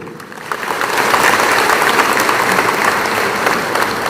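A large audience applauds at a community speech to the Tipra people, rising within half a second into dense, steady clapping that holds for about four seconds.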